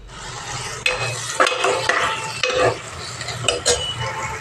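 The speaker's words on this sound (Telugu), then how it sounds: "టమాటోస్ కూడా బాగా వేగాలన్నమాట" Tomatoes frying with turmeric in a pan, a steady close sizzle broken by several sharp scrapes and clinks of a spoon stirring against the metal, with no talking.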